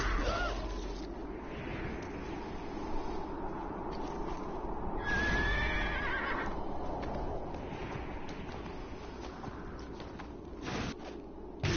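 A horse whinnies partway through, mixed into a steady soundscape from the video game Moonstrick, with background noise and occasional bird-like caws.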